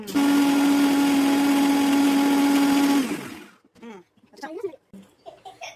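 A mixer grinder grinding ingredients with sugar for a sathumaavu cake runs loud and steady for about three seconds, then cuts off, followed by talking.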